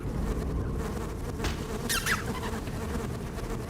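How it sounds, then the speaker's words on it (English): Hive hand bees in the video game Dark Interval buzz continuously at low volume, a steady insect drone with a few brief higher flutters passing through. "they're the hive hand bees"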